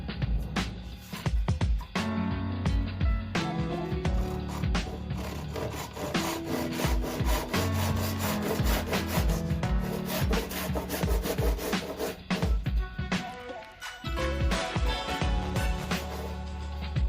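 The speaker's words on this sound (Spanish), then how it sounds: "tarugos de 8 lo voy a cortar a la misma medida que la mecha para tapar cada uno de los tornillos." A hand saw cuts 8 mm wooden dowels to length as plugs for screw holes, with sustained back-and-forth rasping running steadily and loudly through the whole stretch.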